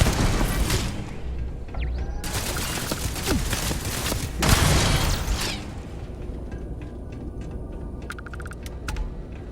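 Sustained turret fire in the video game Starfield, a dense mechanical rattle of rapid shots with booming surges midway, fading into softer clicking and beeping.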